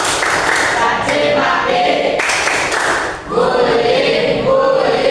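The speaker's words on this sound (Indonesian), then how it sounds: "Tepuk anti bullying" A school class claps in rhythm while chanting an anti-bullying cheer together, bursts of group clapping mixed with loud voices in a classroom.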